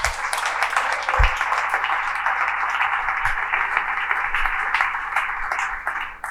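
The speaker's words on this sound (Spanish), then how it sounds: "Fuerte ese aplauso para el Señor." Church congregation applauding for the Lord during a Spanish-language class on deacons, a steady wash of many hands clapping for several seconds with a low hum underneath.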